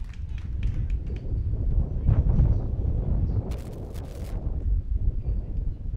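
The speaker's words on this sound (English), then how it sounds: "A relatively windy day here in Fargo, North Dakota." Wind buffets the microphone at an outdoor American Legion baseball game in Fargo, North Dakota: a loud, steady low rumble with gusty swells and a few brief sharp bursts, with no clear talk.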